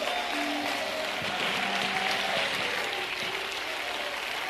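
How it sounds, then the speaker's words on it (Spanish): A church congregation claps in a continuous, dense burst of applause during a worship service, steady and fairly distant, with a faint held musical tone under it. "denle una ofrenda de aplausos al Señor"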